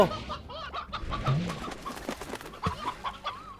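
A bear hen in the farming game Slime Rancher gives a run of short, close clucks in an uneven rhythm, with soft game ambience beneath.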